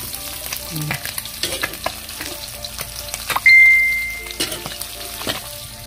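Galunggong fish fry in a pan with a close, crackling sizzle, broken by a few stirring scrapes and light clinks of utensils, plus a brief steady electronic tone partway through.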